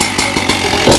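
A chainsaw cuts wood outdoors in light rain, loud and close, its engine snarling steadily with rhythmic surges as the chain bites.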